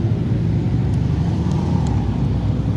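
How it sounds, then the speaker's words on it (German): A lowered Mercedes C63 rumbling past on a city street, a loud, steady low engine drone that holds throughout at close range, with no talking. "Der tiefer gelegte C63 kommt."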